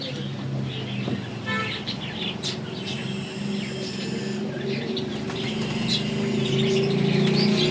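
A group of pigeons calls and coos in a loft, with occasional chirps and brief wing flutters over a steady low hum, continuous and moderately close.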